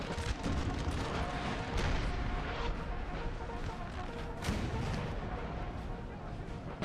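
Artillery fire in Napoleon: Total War forms a continuous low rumble of booms with distant guns firing throughout, at a fairly quiet level, and a voice talks faintly underneath.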